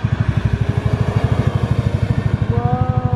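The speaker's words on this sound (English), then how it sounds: "this is what happens when you have a tractor holding up traffic on highway" A tractor holds up highway traffic, its engine chugging in a loud, fast, steady low throb close by, with a thin rising whine joining near the end and no talk.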